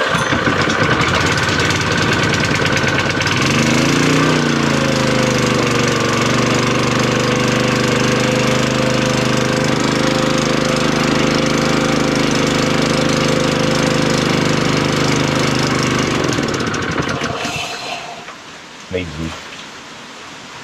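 A steel trawler's boat engine catches and runs at a steady, loud, rattling drone for about fourteen seconds, then cuts out, leaving a few brief knocks.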